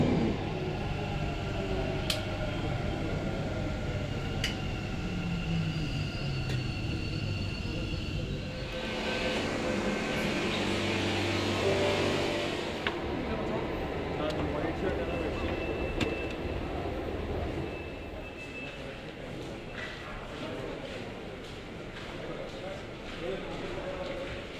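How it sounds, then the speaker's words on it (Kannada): A Bangalore metro train running along its line, with a continuous rumble and rolling hum, a brief brighter whoosh in the middle, and talk heard over it throughout. "ಜಸ್ಟ್ ಈಗ ತಾನೇ ಮೆಟ್ರೋ ಜರ್ನಿ ಕಂಪ್ಲೀಟ್"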